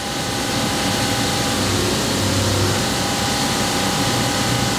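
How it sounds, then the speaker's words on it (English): A CNC milling machine running a light, faster finish pass on shell holders, with flood coolant going: a steady broadband roar with a faint sustained whine and low rumble throughout, loud and without speech. "Here goes the finish pass."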